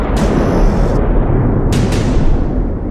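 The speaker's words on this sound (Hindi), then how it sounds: "इजराइल ने तीसरा धमाका भी करके दिखाया" Explosion from an Israeli airstrike on Gaza, recorded by drone: deep, loud blast rumble rolls continuously, with a sharp crack early and two more quick cracks in the second half, no speech.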